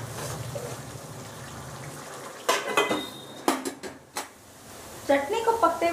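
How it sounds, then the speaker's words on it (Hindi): Tomato chutney being stirred in a cooking pan, a spoon clinking and scraping against the metal in irregular knocks over a steady background hiss. "चटनी को बीच बीच में चलाते हुए पकाएंगे जिससे कि चटनी तले में ना लगे।"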